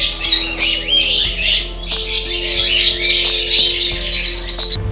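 A dense chorus of pigeons and other birds at a large pigeon farm in Pakistan squawks, chirps and chatters nonstop, close and loud, over a low steady hum.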